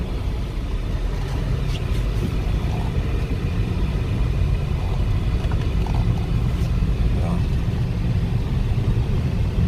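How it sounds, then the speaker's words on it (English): Heard from inside the cabin, a 2004 BMW 545i V8 with 80k miles pulls along with a steady low engine and road rumble that holds even throughout, with no talking. "And here we'll get it through the gears."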